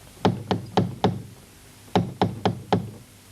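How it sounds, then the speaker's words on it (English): Knocking on a wooden house door: two quick sets of four evenly spaced, firm raps separated by a short pause, close and clear with nothing else heard. "he knocked upon the door."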